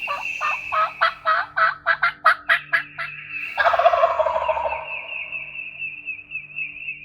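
Wild turkey gobbler in Tennessee hunting country gobbling twice in quick rattling bursts, clear and fairly close, between them a faint hen-like call and quiet outdoor background.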